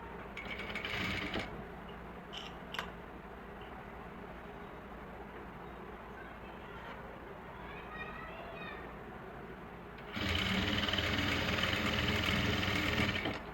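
A sewing machine stitches a border onto a suit, first in a short run, then a quiet pause with soft handling and faint voices, then a longer steady whirring burst.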